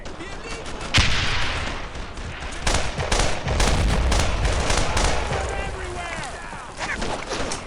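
Dense battlefield gunfire in the World War II video game Brothers in Arms: Earned in Blood, during a tank destroyer escort through St Sauveur; overlapping rifle and machine-gun shots with heavy booms, continuous and loud, with shouted voices mixed in.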